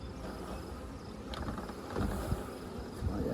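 Bees on a hive lid give a low, steady buzzing hum on an overcast, slightly windy day, faint and diffuse with light rustling noise mixed in.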